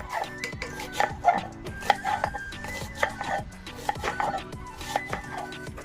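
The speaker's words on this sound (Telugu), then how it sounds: "ఉల్లిపాయలు పొడువుగా చన్నగా కట్ చేయాలండి" Onions for crispy pakoda being cut into long thin slices, a steady run of knife chops on a board repeating through the stretch, with faint background noise and no clear speech.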